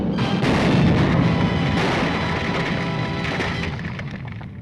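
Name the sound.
explosion in a movie serial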